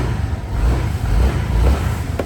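A small 150cc scooter engine idles just after starting, a low, smooth and steady rumble close by, with no talking.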